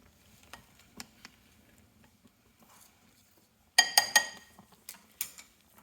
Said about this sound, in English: I'm gonna stir this a little bit right here.